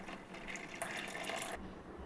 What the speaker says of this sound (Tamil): புளி தண்ணீர் சேர்க்கலாங்க.